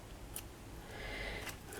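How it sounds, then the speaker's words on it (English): Little tiny scissors snipping loose bits from altered mixed-media eggshell chips, a few quiet, crisp clicks close by against a soft background hiss. "Anything that's loose you can just snip off with your little tiny scissors"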